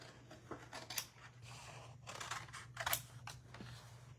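Scissors snipping paper for an art journal, giving pieces a rough cut: a series of short, crisp snips in irregular bursts, close and fairly quiet over a steady low hum, with no talking.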